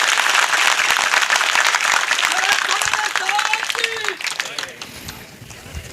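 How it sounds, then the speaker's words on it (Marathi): Loud crowd applause and clapping at an outdoor public speech event in Godre, Junnar, sustained and dense for most of the clip before tapering off, with faint whistles or voices mixed in. "आपण सगळ्यांच्या वतीनं एक जोरदार या धाडस केल्याबद्दल जोरदार एकदा टाळ्या"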